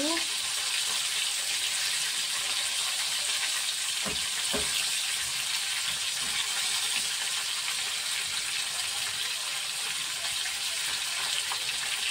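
Cauliflower pieces frying in hot oil in a pan for a home-style roast, a steady loud hiss and sizzle throughout with a couple of brief clinks of stirring.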